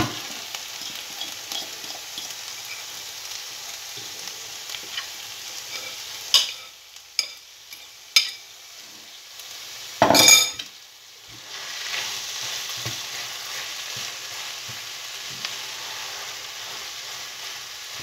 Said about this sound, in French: On va bien mélanger et on va bien laisser cuire